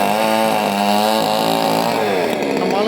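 Chainsaw cutting trees at a tree-removal job, a loud, close two-stroke engine whine that revs and shifts pitch as the chain works, continuous for a few seconds with no talk over it.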